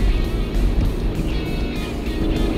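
A car engine labours in third gear while climbing a steep slope, giving a loud, continuous, close rumble with a steady drone and no clear change in pitch.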